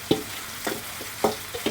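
Chunks of mutton with spices sizzling in a pan for a festive curry while a spoon stirs them, giving about four scraping clinks at a steady rhythm over a continuous close fry hiss.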